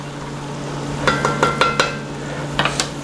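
Metal spoon knocking and scraping around a pot of pork and beans, a few sharp clinks in short bursts over a steady low cooking hum, close and fairly loud.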